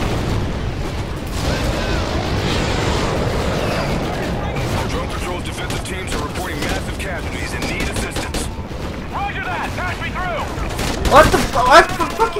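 Gunfire from the video game Call of Duty: Ghosts, dense bursts and rapid shots filling the whole stretch, loud and continuous, with a player's voice shouting and radio chatter over the battle.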